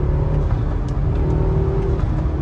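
BMW car with a B46 engine accelerating in sport mode, a steady loud low engine drone and road rumble heard from inside the cabin, continuous throughout.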